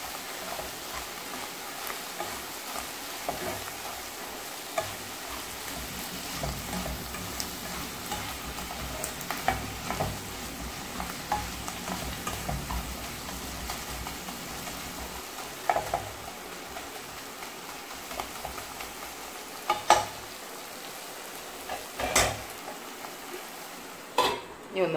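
Clams frying with crushed garlic and ginger paste in a pan, stirred steadily with a spoon that scrapes and taps the metal over a continuous low sizzle, close and moderately loud.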